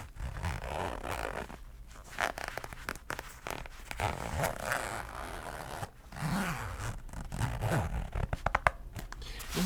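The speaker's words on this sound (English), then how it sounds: "You're able to take your Switch and put it in the soft case like so, and then you can zip it up." A Nintendo Switch soft case is zipped up in several close, scratchy zipper pulls with short pauses between them.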